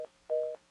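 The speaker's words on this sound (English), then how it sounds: "what I did was I dialed 800-525-0018" Two touch-tone telephone keypad beeps, one brief and one longer, sound clean and steady over a quiet line.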